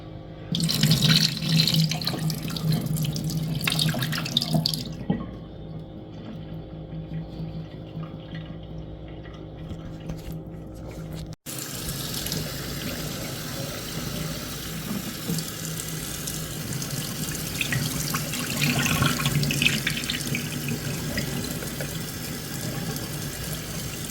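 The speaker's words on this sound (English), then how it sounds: "We're going to drain the liquid off of the second one." Liquid drained from a second can of jackfruit at a sink, a steady splashing pour with a tap-like rush that cuts off briefly and then continues, close and moderately loud.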